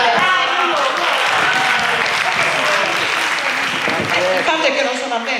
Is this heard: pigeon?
no